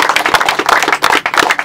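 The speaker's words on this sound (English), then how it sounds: "I think he deserves our applause." An audience at a groundbreaking ceremony for a solar farm project applauds, a loud, dense burst of clapping from many hands close by, continuing steadily throughout.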